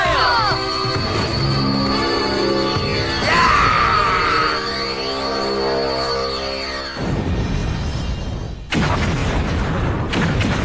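A loud weapon blast from a Power Rangers Wild Force battle, with a sustained booming roar and ringing tones, a sharp cut, then a fresh explosive burst near the end.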